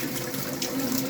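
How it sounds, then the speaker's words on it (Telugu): Water is poured steadily out of a pot, a continuous close splashing gush that lasts the whole brief moment. "నీళ్ళు మొత్తం వంపేసుకోవాలి."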